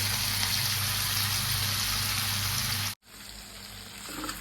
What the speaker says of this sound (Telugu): ఇప్పుడు ఇందులో ఇలా మనం గ్రైండ్ చేసుకున్న కొత్తిమీర పుదీనా పేస్ట్ అయితే వేసేస్తాను